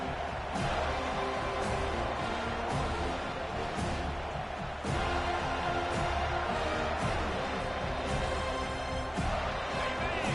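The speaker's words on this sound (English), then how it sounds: "This crowd busting the decibel meter and trying to will a 4th down stop." A loud football stadium crowd roars steadily at a college game between FSU and Colorado, pushing for a fourth-down defensive stop, a dense sustained din with sharper bursts swelling throughout.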